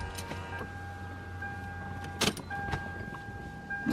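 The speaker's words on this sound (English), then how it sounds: "take your key, put it in the ignition." A key slides into the ignition of a Lexus SC430, with a soft metallic jingle and a couple of clicks over a steady chime tone and low hum inside the quiet car.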